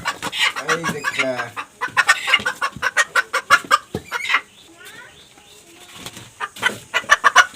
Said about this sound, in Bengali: একটা মোরগ আর 2টা মুরগি।